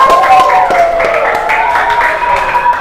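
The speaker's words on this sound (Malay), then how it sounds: "Tepukkan tepuk tangan kepada." A classroom of students in a religious education lesson claps together in steady, continuous applause, fairly loud and close, while voices speak and chatter over the clapping.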